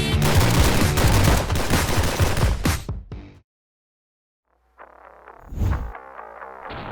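An Arsenal K-101 AK74 rifle with a light trigger pull fires a fast, loud burst of close-range shots that stops abruptly, then a few quieter sharp reports ring out over a lower rumble after a short silence.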